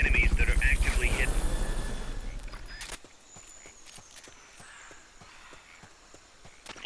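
The Fulton recovery helicopter from the video game Metal Gear Solid Peace Walker thumps loudly with a rapid, even rotor beat for about three seconds, then cuts away, leaving quiet scattered footsteps.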